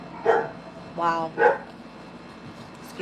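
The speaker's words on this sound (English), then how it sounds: "Excuse the dogs" A dog barks in a few quick yips close by, in short bursts within the first second and a half, indoors during a relaxed energy-reading session.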